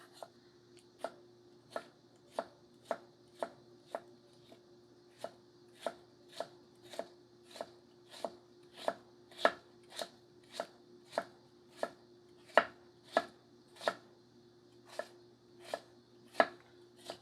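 Crisp, evenly spaced knife strokes from a Takamura Chromax 210mm gyuto chopping on a board, around twenty-five sharp taps in a steady rhythm, close and clear with no talk.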